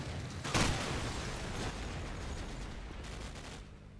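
AK rifle fire during a competitive shooter match, a few loud cracks with a strong burst near the start and another around the middle, decaying into rumbling ambience, near and punchy.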